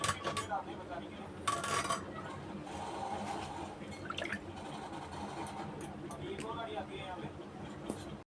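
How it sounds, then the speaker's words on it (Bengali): Fish gets rinsed in a kitchen, with clinking of metal pots and utensils and splashing, trickling water throughout, while a voice talks over it. "মাছ যত ভালো করে ধোবো তত ভালো।"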